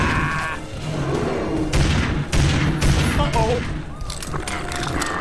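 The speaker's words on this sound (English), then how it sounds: "Keep shooting him." Rapid gunfire in the video game Family Guy: Back to the Multiverse, repeated sharp bursts over about five seconds mixed with game voices and other effects.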